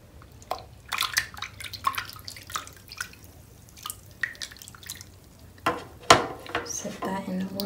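An enhydro crystal is set down into water, giving a run of small drips, splashes and clinks at close range, with a louder splash near the end and faint talk in places.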